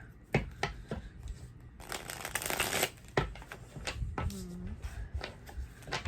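Tarot cards from a Dream Discernment deck are shuffled by hand at close range, giving soft riffles and flicks with a longer burst of rapid card noise in the middle.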